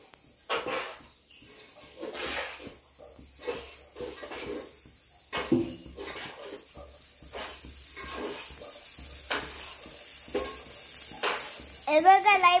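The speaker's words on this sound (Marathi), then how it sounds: "हा राजगिरा आहे, त्याची डाळी फुटते" Amaranth (rajgira) grains roasting and popping in a pan, irregular bursts of crackling hiss between quieter gaps with scraping stirs, ending in a louder rattling flurry.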